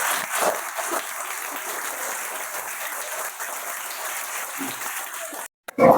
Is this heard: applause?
yes